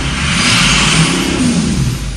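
A car engine revs continuously and loudly up close, a sustained mid-pitched roar with slight wavering for a couple of seconds, with no other sounds over it.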